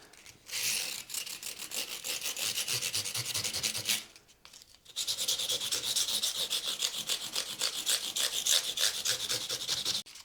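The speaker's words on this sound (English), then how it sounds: "now it's on with a bit of sanding. Bit of 320 grit rounded round me finger" A luthier hand-sands the edge of a guitar's binding with 320 grit sandpaper wrapped around a finger, on a scratch-built fabric-top NF-53 Tele. Close, steady back-and-forth rubbing strokes run continuously, with one brief pause partway through.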